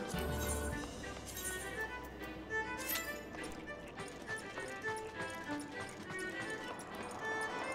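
Rapid running footsteps of racing chocobos in a Final Fantasy video game, a steady galloping clip-clop patter layered over busy game music and effects, loud and continuous for the whole stretch.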